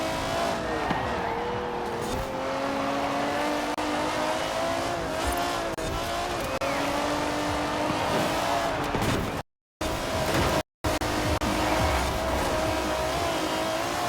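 Race cars including a Jaguar XJS roar past in Forza Horizon, a loud continuous engine drone with rising and falling revs and tyre noise, close and sustained, briefly cut out twice near the end, with a voice talking faintly over it.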